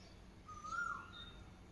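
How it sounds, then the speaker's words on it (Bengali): An Asian koel calls once in springtime near a garden vegetable patch, a single rising whistled note that is faint and distant against a quiet background. "কোকিলের একটা খুব সুন্দর আওয়াজ হচ্ছে"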